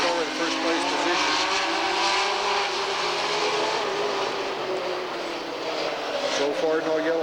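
Super stock race cars roar around a paved raceway in a continuous, loud, wavering engine drone as several cars run together. Announcer-style commentary carries over the steady engine din.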